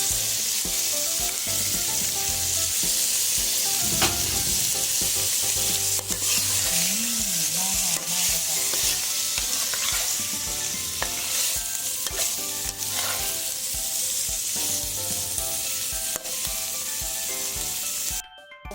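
Stink beans (sator) are stir-fried with shrimp and southern Thai curry paste in a pan, making a loud continuous sizzle with steady clattering and scraping of the spatula for most of the stretch, close up.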